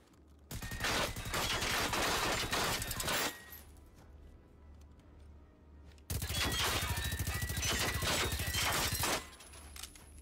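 Video game gunfire in loud sustained bursts, one of about three seconds, a quieter gap, then another three-second burst, with no voices.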